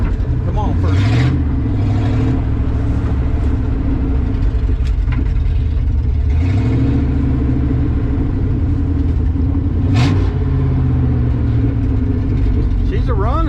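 A 1970 Ford F250 truck without power steering labours in first gear with a low engine rumble and rising and falling revs, while people talk over it.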